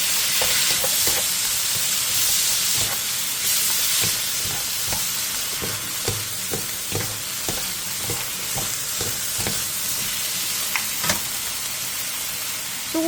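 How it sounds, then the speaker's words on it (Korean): Minced beef is stir-fried over high heat with soju and pepper. A loud, continuous sizzle fills the whole stretch, broken by frequent clicking scrapes and taps as a utensil stirs the meat in the pan. "다진 소고기 1컵과 소주 1스푼, 후추를 넣고 소고기가 익을 때까지 센 불에서 볶아주세요."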